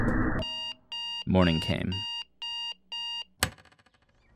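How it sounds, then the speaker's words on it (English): Alarm clock beeping in five evenly spaced bursts, loud and close, following a brief spoken line and a rising swish, then a sharp hit and quick fade. "I turned off my alarm clock"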